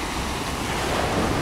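Sea surf at a beach at Diamond Resort in Alanya, a continuous broadband wash of waves with some wind noise on the microphone, steady and fairly loud, no talking.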